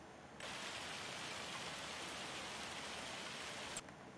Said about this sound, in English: get this goddamn hail out of here